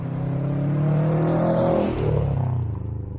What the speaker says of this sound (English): once you start building the RPMs here, pushing that boost up, this thing does motor